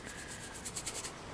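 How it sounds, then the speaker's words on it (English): A brush strokes brown acrylic paint across a surface for resin beach art, a soft, close scratching rub repeated in short strokes. "I'm just gonna paint this area with the brown to begin with"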